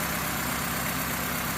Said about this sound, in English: when I come around the back and listen to the exhaust noise